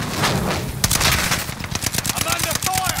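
Rapid automatic gunfire from a Call of Duty match, loud and close, with dense bursts of shots and a few sharp single reports continuing throughout.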